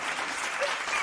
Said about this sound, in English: Y'all applaud them